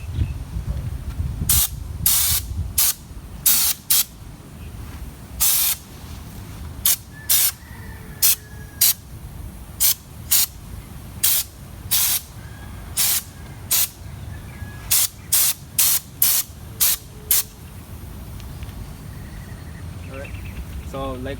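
A spray gun applies a Raptor liner coat to a Ford F-250 pickup in about twenty short, loud hissing bursts separated by brief pauses, with a steady low background noise.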